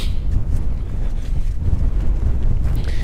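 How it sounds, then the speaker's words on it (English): Strong wind buffets the microphone at a coastal fort by the beach, a loud, continuous low rumble with gusty surges and no voices. "Just a wee bit breezy."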